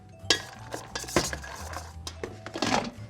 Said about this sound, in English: I'm gonna add my onions and some carrots.